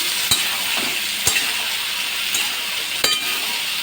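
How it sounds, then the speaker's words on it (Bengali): Papaya curry frying and being stirred in a pan, a loud continuous hiss with a few sharp utensil knocks against the pan spaced apart, no speech. "আমি তরকারিটাকে বেশ কিছুক্ষণ ধরে কষিয়ে নিলাম"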